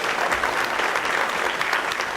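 Dense, steady applause from a school audience at a third grade instrumental concert, filling the whole moment with loud, even clapping and no pauses.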